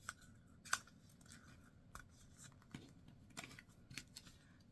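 Scissors snip through folded book pages during book folding, giving a series of faint, crisp, close-up cuts spaced irregularly over quiet background.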